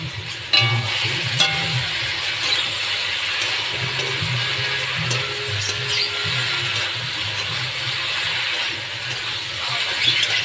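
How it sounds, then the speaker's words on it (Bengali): Taro stolons (kochur loti) hit a hot pan with softened tomatoes and fry loudly, a dense continuous sizzle and hiss with faint stirring scrapes throughout. "এবার কচুরলতিগুলো দিয়ে দিই।"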